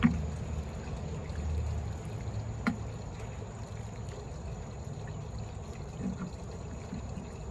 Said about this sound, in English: I'm gonna water them in just a little bit